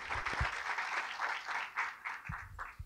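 Sustained, vigorous applause from an audience after a talk by Pedro Duarte at Sempre Um Papo, with many hands clapping in a rolling, pulsing texture and a few low thumps, heard alone for about three seconds.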